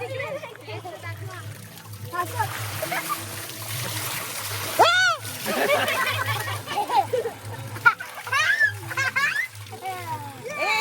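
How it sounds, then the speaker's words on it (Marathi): Water splashing in bursts as children play, with excited kids' voices and shrieks throughout, a steady low hum underneath. "हे पाणी उडवायचं ना."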